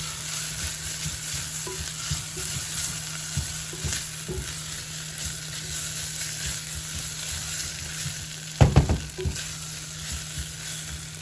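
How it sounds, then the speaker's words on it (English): Tomato paste sizzles and cooks in a pan with a steady, close frying hiss, broken by occasional soft stirring taps and a short burst of louder clattering scrapes near the end, with no one talking. "I like to let the tomato paste sort of cook out"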